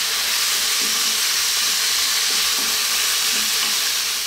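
Onions frying over high heat in a pan for a beef mushroom stroganoff, a constant loud sizzle and hiss with occasional soft stirring scrapes.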